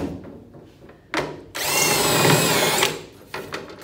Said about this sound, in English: We're going to drill that an adequate amount.